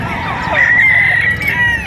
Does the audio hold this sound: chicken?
yes